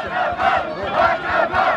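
A crowd of bullfight fans chants for the bull Jablan at a 2023 korida in Zimča, a loud, rhythmic rising-and-falling chant repeated about three times in quick succession.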